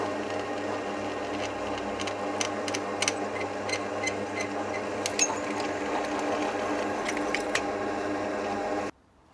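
Electric drill running steadily under control of a foot pedal switch, a constant motor whine with faint ticking clicks, close and alone, stopping abruptly near the end as the pedal is released.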